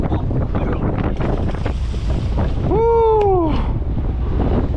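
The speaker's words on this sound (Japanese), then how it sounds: "ぐっつい波でした、ね、 今日は大変でしたね" Strong wind and heavy, rough seas buffet a drift-gillnet fishing boat out on the open ocean during a Spanish mackerel trip, a steady loud roar with a brief tonal whoop or squeal rising and falling partway through.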